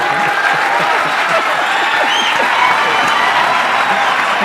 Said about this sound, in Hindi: जो अभी तालियां बजा रहे थे